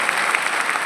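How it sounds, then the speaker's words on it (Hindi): An audience at a Herbalife gathering claps in a brief, dense burst of applause, loud and even, with no voices over it. "आप जोरदार अपने लिए ताली बजाइए।"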